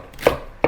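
Two sharp knife chops through celery on a cutting board, spaced about a third of a second apart, close and crisp with quiet pauses around them.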